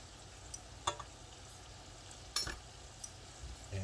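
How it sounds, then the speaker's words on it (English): Mushroom gravy is ladled into stovetop stuffing in a pan, giving a soft, steady sizzle with a few brief clinks and splashes, quiet and close, with no talking. "Okay, so I ladle in some gravy"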